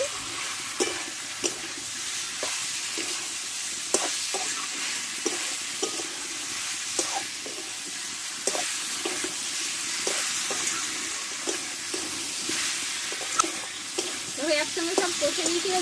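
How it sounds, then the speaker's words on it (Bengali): Mung dal with pumpkin stir-fried in a pan, a steady sizzle broken by frequent scraping stirs of a spoon, close and moderately loud, with no voices. "দিয়ে একসঙ্গে ভালো করে ডালটা একটু কষে নেবো"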